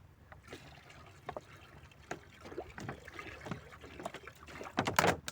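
Liquid pours from a flexible plastic bottle that buckles as it empties, giving uneven gurgling and trickling bursts close by, with the loudest glugging near the end.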